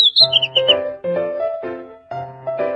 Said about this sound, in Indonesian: Burung kecil.